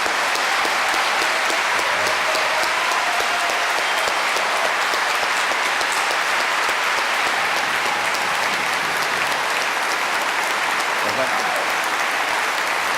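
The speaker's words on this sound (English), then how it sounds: "I told them not to clap." A large audience applauds steadily after a lively debate between Peter and Christopher Hitchens, a dense, sustained wash of clapping lasting throughout with no pause.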